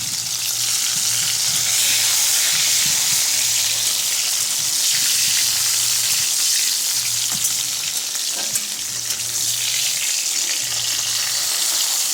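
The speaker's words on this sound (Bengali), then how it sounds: "টমেটোটাকে ভালো করে আগে ভেজে নিতে হবে।" Chopped tomato frying in a pan with whole garam masala, a loud, dense, continuous sizzle with occasional stirring scrapes, close up and without talk.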